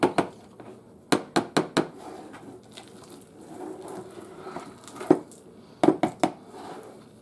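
Home-canned pinto beans being mashed into refried beans in a pot, with bursts of quick, sharp knocks and soft squishy thuds in short clusters separated by quieter stretches, close by with no talking.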